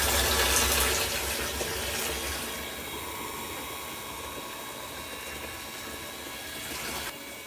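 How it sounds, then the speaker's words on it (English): A garden hose on an automated watering setup runs steadily, giving a continuous broadband rush of water that eases slightly in level and stays unbroken throughout, with no talking. "So, turn on the hose, turn off the irrigation."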